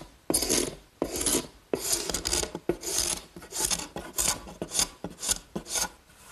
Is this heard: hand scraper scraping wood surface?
yes